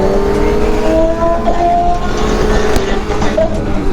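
Motorbikes rev loudly on a street in Florida, a dense, continuous engine roar with rising and falling pitch close by, filling the whole stretch without any talk.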